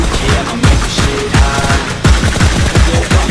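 Heavy-weapon bursts from PUBG Mobile ring out in rapid, loud volleys, with roughly eight punchy bursts spaced unevenly and overlapping in a dense, continuous stretch of in-game gunfire.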